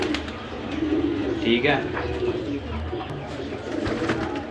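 Pigeons coo softly at a Lahore pigeon sale while someone talks over them and counts birds, with low murmuring coos and rustling throughout.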